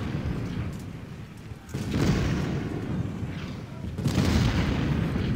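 Distant booms of artillery and scattered musket gunfire in a Civil War battle strategy game, a steady rumbling barrage with heavier swells, alone with no voices.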